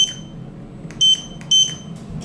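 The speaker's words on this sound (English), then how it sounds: "Let's ring that bell again. I want to hear that chime." A Schindler 3300 MRL traction elevator chime sounds twice, two bright high tones spaced about half a second apart, clear and close over a low room hum.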